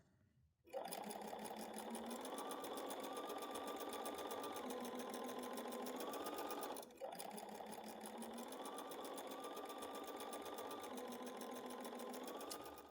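Sewing machine stitching across fabric seams of a quilted door banner block, running in a steady fast whirring hum with a brief pause midway before continuing, close and alone without talk.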